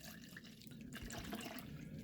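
Water mixed with ethanol poured from a container into a mug, a steady liquid splash and trickle lasting about two seconds, close and moderately loud, with no talking.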